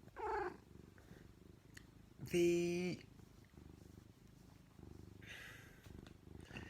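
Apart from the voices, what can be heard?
cat purring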